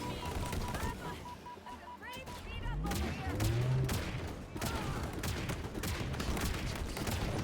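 Rocket and shotgun fire in the Halo Infinite video game, a dense string of close gunshots and explosions with whooshing, sweeping effects, and speech mixed in throughout.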